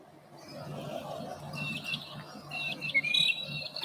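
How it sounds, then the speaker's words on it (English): Birds chirp and tweet repeatedly along a city street in Bendigo, Victoria, Australia. The bright calls come in short bursts over a steady low street hum and grow busier toward the end. "You hear the birds."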